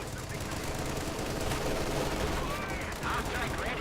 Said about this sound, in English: We've got an artillery strike in from Highfive.